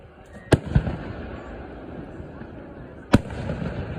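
Two sharp fireworks blasts, Class A consumer fireworks set off outdoors around the Fourth of July in Morristown, New York, each a loud near bang with brief echo over a low background murmur.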